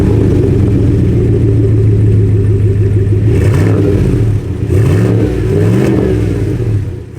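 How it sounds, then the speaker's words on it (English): A 2019 Chevrolet Silverado 1500 LTZ pickup with the Rocky Ridge Mad Rock package and a custom side-exit exhaust idles with a deep rumble, then revs sharply twice, loud and close, with no talking. "As we make our way to the back end, we have a custom exhaust exiting the side."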